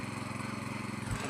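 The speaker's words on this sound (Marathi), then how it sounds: "आई गेले ट्रॅक्टर धरायला." Tractor ploughing a flooded paddy field in a Konkan village, a steady low engine chug running throughout at moderate distance.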